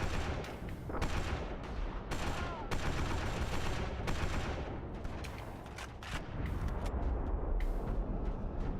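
Sustained video game gunfire, loud repeated shots and bursts in an irregular rhythm, some overlapping, with dense crackling and booming between them.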